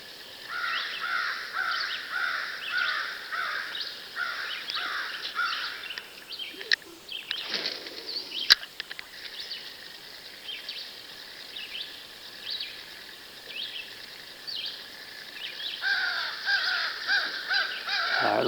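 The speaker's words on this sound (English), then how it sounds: "I guess the crows spotted me." Crows caw repeatedly outdoors beside a fishing spot, harsh calls coming in rhythmic bursts at moderate distance, fading to a lull midway before a fresh run of cawing.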